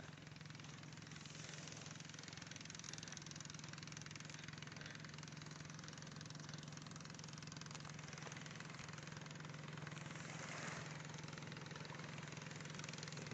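A boat engine drones steadily as the vessel heads out to sea, a constant mid-pitched hum with wind and water noise over it, faint and unbroken throughout.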